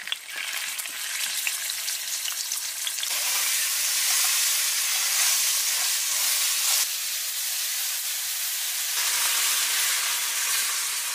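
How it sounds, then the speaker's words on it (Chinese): A halved hairy crab dusted in starch deep-fries in hot oil, giving a loud, close, continuous sizzle and hiss that surges and shifts in intensity over several seconds, with no talking. "刚才大闸蟹油炸了一下"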